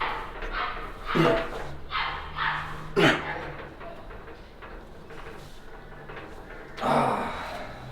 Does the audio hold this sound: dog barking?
yes